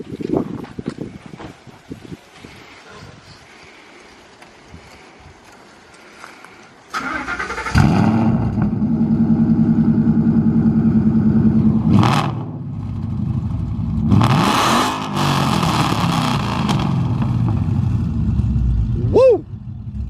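Car with a 3.5 engine starting and revving loudly in a few surging bursts after quieter clatter, with voices talking over it at points.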